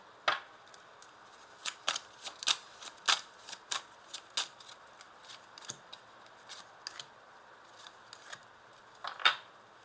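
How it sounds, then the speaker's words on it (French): Tarot cards are handled and laid out during a reading, a quiet series of short, crisp paper flicks and snaps spaced irregularly, close and soft. "Je vais quand même rajouter des petites cartes."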